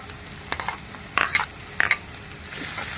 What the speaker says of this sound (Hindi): अभी डाल रही हूँ प्याज, हरी मिर्ची, कड़ी पत्ता डाल दूंगी।